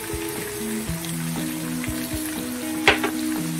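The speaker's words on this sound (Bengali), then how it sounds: "ক্যাপসিকাম আর এটাই ভাজা হয়ে গেছে, এবার আমি টমেটোটা দিয়ে দেবো।" Capsicum and tomato sizzle in a frying pan, a steady, close, even crackle throughout with a brief stir or scrape near the end and no voices.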